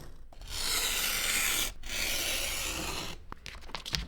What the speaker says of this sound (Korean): 가죽의 가장 긴 면을 끈을 잘라야 됩니다.